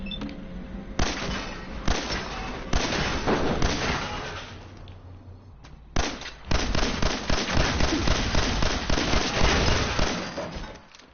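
Bursts of video game gunfire in a PS4 shooter, sharp cracks and rapid volleys rattling through the mix, with a short lull before a long sustained stretch of fast, loud shooting and no talk.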